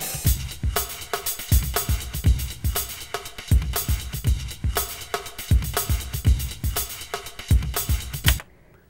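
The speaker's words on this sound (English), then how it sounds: "This is a MIDI track that was created using an internal plugin called Battery, and it's just a drum groove" A steady MIDI drum loop from the Battery plugin in Pro Tools, with punchy kick and snare hits and busy hi-hats repeating in an even groove, then stopping abruptly.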